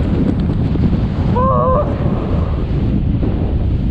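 Loud, strong wind blasts across a Mojave desert ridge, roaring into the microphone without letup, with a brief faint whistling tone partway through.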